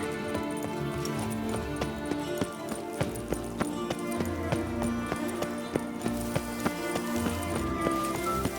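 Steady rhythmic hoofbeats of a horse galloping in The Witcher 3: Blood and Wine pound on, mixed with a constant musical backdrop and game-like ambience.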